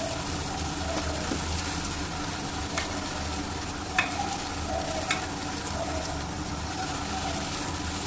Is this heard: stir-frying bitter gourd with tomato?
yes